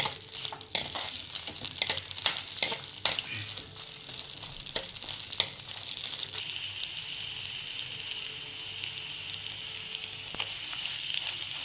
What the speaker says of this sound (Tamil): பூண்டு போட்டுக்கேன் காஞ்ச மிளகா ரெண்டுத்தையும் போட்டு கொஞ்சம் வதக்கிக்கோங்க